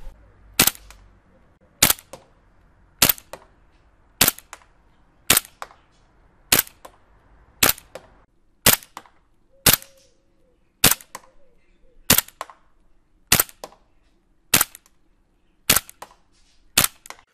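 WE Luger P08 gas blowback airsoft pistol fired at a target: fourteen sharp, loud cracks at a steady pace of roughly one shot every 1.2 seconds, with faint quiet handling between shots and no talk.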